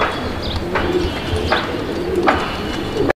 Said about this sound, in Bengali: কবুতর দেখেন আপনারা, ভালো একটা কবুতর, হাই ফ্লায়ার কবুতর